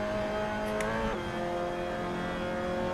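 A Mazda MX-5 Cup race car in a VR racing game at Silverstone drones steadily at high revs through a downshift into a turn, with a brief pitch shift around one second, loud and continuous with no talk.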